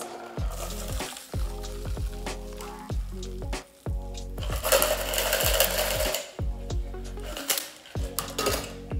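A shaken gin rickey is strained into a glass. Metallic clinks and scrapes from the shaker and strainer mix with bursts of pouring liquid and rattling ice, close and moderately quiet, with brief pauses between them.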